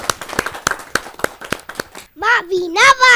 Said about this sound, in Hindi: जरा जोरदार ताली बजा